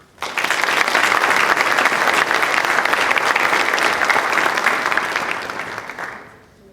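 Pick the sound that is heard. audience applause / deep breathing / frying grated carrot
audience applause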